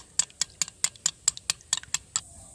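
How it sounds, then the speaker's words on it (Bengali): Eggs are whisked in a bowl for Bengali-style battered bhetki fish, a steady series of about a dozen sharp, close clicking taps at an even, brisk rhythm. "ডিমটা আমি এখন ভালো করে ফেটিয়ে নিচ্ছি।"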